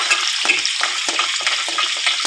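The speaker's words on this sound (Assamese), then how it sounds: "কেৰাহীখন পাতি তাতে পিঁয়াজ দিলোঁ, কেইটামান পাঁচফোৰণ, শুকান জলকীয়া" Steady crackling sizzle of onions, five-spice seeds and dried chillies frying in a hot wok, with bursts of stirring and spattering throughout, close and fairly loud.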